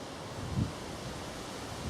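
Wind gusts outdoors beside a broad bean field on a country walk, a steady broad rush with brief buffeting thumps against the microphone and no voices.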